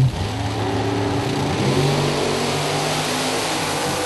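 A Super Pro drag race car launches down the strip at a Gamblers race, its engine a loud, sustained roar that holds steady at full power from start to finish.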